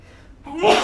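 A single sneeze, close by: a short sharp intake of breath followed by a loud explosive burst.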